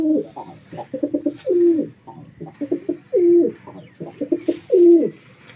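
Pet pigeons at a nest coo repeatedly up close, soft rolling calls alternating with longer drawn-out coos in a steady, loud rhythm with no talking.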